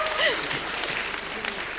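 An audience claps steadily at a dance concert, a dense and continuous patter of applause from a crowd with a brief whistle near the start.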